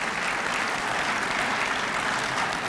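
A round of audience applause at a graduation ceremony, steady, dense clapping from a crowd heard throughout at moderate volume.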